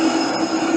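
A train pulls in during a scene from The Matrix film, a steady loud rumble with a high metallic whine through the short stretch, no voices.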